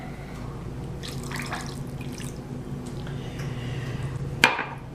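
Water poured while mixing a corn casserole in a home kitchen, a soft trickling wash that stays fairly quiet, ending in a sharp clink near the close.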